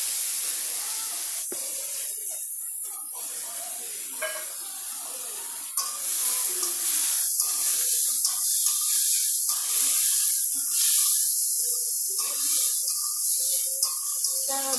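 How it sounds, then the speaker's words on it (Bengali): Onions go into hot oil in a wok already used for frying pabda fish, producing a loud, steady sizzle that jumps to an even harsher, fuller hiss partway through and holds there. "এখন কড়াইয়ে ভাজা তেলে পেঁয়াজ দিয়ে দেবো।"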